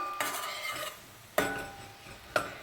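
Vegetables for a vermicelli soup are sautéed and stirred in a pot, a utensil scraping the bottom with a soft sizzle and three sharp clinks against the rim, close and fairly quiet.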